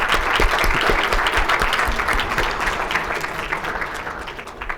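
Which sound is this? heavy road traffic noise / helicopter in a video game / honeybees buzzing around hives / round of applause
round of applause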